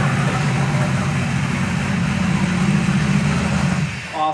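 A muscle car's engine idles at a classic car dealership, a deep, steady rumbling throb held close and loud with no talk, then briefly dipping near the end.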